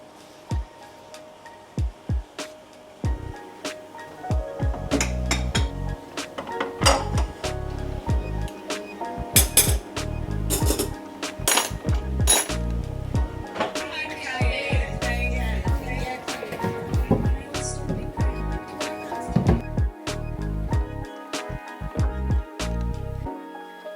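Plates and cutlery clink and knock sharply as dishes are dried by hand in a London kitchen, irregular clatters throughout with a soft rubbing cloth sound in the middle stretch.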